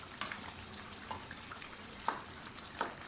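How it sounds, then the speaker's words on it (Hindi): A faint, soft sizzle comes from lauki gosht, a bottle gourd and meat curry, being fried in a pan, with occasional light clinks of stirring over the quiet crackle. "धनिया वगैरह भी डाल दें, अच्छी तरह से भूनें इसको"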